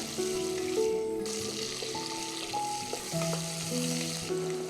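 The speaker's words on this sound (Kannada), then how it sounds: "ಹುರಿಬೇಕಾ ಚೆನ್ನಾಗಿ ಈರುಳ್ಳಿಗೆ" Onions fry in a pan with a steady, close sizzle and crackle that runs unbroken throughout, with faint stirring scrapes and soft tonal music in the background.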